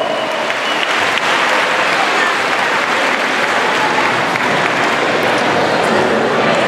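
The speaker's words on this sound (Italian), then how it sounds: "un applauso." Loud, dense audience applause at a youth volleyball awards ceremony in Sirmione, a continuous wash of many hands clapping throughout with no break.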